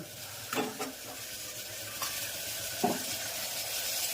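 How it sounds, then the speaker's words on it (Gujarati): Vegetables tempered in hot oil with spices keep up a soft, steady sizzle. A few quiet spoon stirs and scrapes sound against the pan. "સરસ મજાનો વઘાર થઈ જશે."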